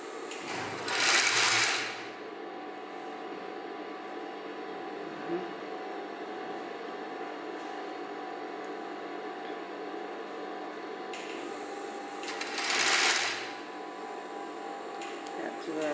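Fast wig-making sewing machine stitching along a wig cap, a continuous close whir with brief louder bursts, while a person talks over it.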